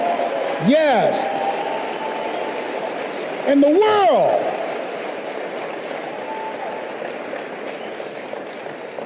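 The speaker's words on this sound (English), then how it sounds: "Give her a round of applause" An audience at a multi-level marketing motivational seminar keeps up a steady wash of applause while a voice calls out twice over the top of it.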